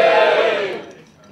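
A comedy club audience cheers and whoops loudly at a live stand-up show, a single burst of crowd noise that quickly fades away to near silence.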